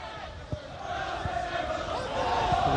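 Sellout all-ticket crowd of just over 4,000 at Shieldfield for a Scottish Division 3 football match between Berwick Rangers and Rangers, a steady roar of massed voices with a few dull thuds, continuous and moderately loud throughout.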